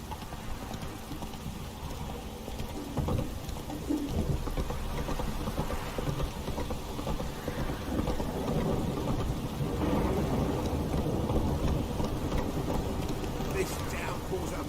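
Rain and thunder in The Witcher 3 game world: a steady broad downpour hiss with low rumbling swells, continuous and fairly loud, while voices talk over it throughout.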